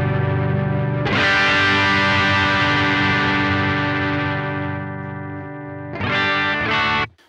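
Moonshine overdrive pedal at its original setting shapes a sustained electric guitar chord that rings out loud and distorted, fades slowly, then a second strummed chord cuts in near the end; no talking.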